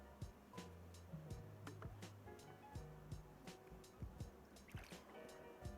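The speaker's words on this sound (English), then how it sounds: "it's the water. It's so watery." Water sounds from an episode of the anime Samurai Champloo: a regular series of soft splashing knocks repeats about twice a second over a low tonal background.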